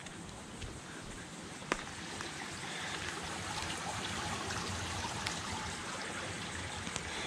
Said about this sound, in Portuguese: Olha o tanto de água por segundo que vaza.